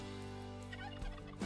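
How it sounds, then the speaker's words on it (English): A wild turkey gobbler calls near a decoy setup during a hunt, its gobbling rising over a steady background hum, with a louder burst close by toward the end. "our other gobbler should be working his way in any minute now as well"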